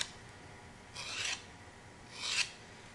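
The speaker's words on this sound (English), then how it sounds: "take our metal scraper and run it along any edges to give them a quick bevel" A metal scraper rasps along the edges of a clay tile to bevel them, making two short, close scraping strokes separated by a quiet pause.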